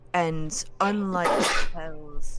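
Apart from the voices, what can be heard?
sneeze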